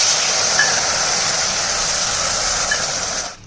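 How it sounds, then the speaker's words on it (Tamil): Water poured into roasted broken wheat in a hot pan, a loud steady sizzling hiss close up that holds evenly before tapering off at the end. "இதில் 5 கப்பு தண்ணி ஊற்றிக்கிருப்போம்."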